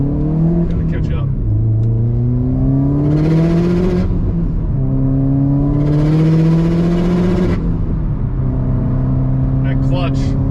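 A 420-horsepower Subaru WRX STI S209 on E85 accelerates hard through gears with a slipping clutch, engine tones sweeping upward in repeated loud pulls with brief shifts and gusts of intake hiss, recorded from inside the car with talking over it.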